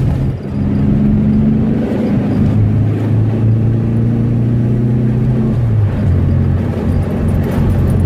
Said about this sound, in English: change to fourth gear and you start to get this hesitation